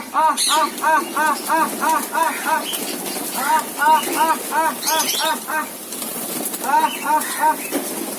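Country pigeons on a bird farm in Rangpur coo in repeated rhythmic bursts as they gather to feed, with flutters of wings and a voice talking over them.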